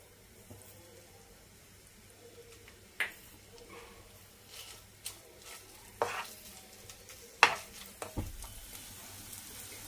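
Chicken pieces and green chilies fry in butter over a medium flame, a steady sizzle broken by occasional scrapes and clinks of a spatula stirring in the pan, with no talking.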